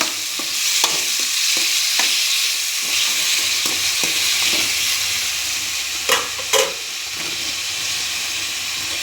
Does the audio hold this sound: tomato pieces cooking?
yes